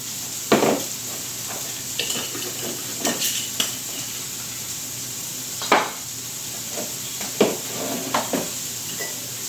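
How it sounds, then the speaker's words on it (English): Vegan oxtail stew ingredients sautéing in a pan under a soft, constant sizzle, broken by several distinct clinks and scrapes of a utensil against the cookware. "Let that start sauteing in there."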